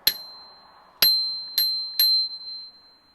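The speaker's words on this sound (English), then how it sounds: "I love the bell. This is a cool looking bell." A bright bicycle bell on a Haibike electric mountain bike rings four times, one ding followed by three quicker ones, each leaving a clear metallic ring that fades.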